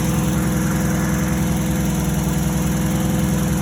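A turbo RB25-swapped Nissan Cefiro engine idles steadily at low revs while warming up, a constant throbbing rumble with even pulses, close and loud, with no voices.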